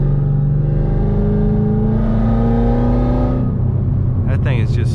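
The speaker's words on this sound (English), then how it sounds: "one of my favorite things about this car is definitely the sound" A supercharged 2018 Yenko Camaro engine roars loudly and steadily close up, its exhaust droning and rising in pitch before easing off, with a brief whir near the end.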